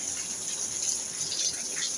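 A waterfall in Dubai gives a steady, soft rush of falling water heard from a distance, even and unbroken, with no voices.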